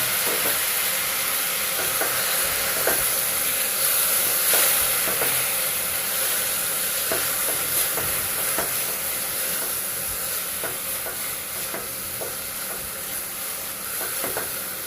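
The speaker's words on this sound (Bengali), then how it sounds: "আলুগুলো একটু ভেজে নেব।" Potatoes frying in oil in a pan, giving a steady loud sizzle with a bright, constant hiss and occasional crackles and stirring knocks throughout.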